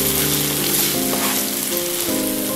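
Tomato puree hits a hot pan with ginger garlic paste for a fish curry, producing a loud, continuous close sizzle with faint stirring and no voices.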